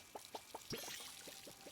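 Watering a plant with a watering can in the video game Palia: a short, soft, faint splash of pouring water with a few light rhythmic taps beforehand, heard alone.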